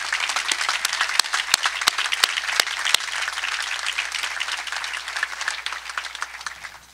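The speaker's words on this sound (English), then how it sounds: "give them a round of applause for it." Audience applause at a company special announcement event, a sustained crowd of clapping with a few sharp individual claps standing out early on, then gradually fading.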